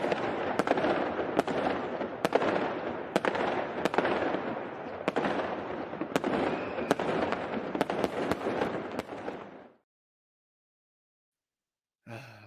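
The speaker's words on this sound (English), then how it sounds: "here's some fireworks" Fireworks crackle and boom in a dense, continuous barrage, with sharp bangs popping repeatedly over a rumbling wash for about ten seconds before stopping abruptly.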